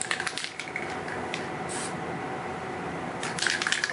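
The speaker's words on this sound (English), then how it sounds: "I just do a little test spray" A short test spray from an aerosol spray-paint can during a Town & Country restoration, giving a hissing burst with faint rattles and clicks around it, close and moderately loud.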